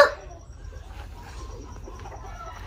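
Hens at a poultry farm cluck softly in the background, faint and intermittent under a low ambient hum, with a brief louder sound at the very start.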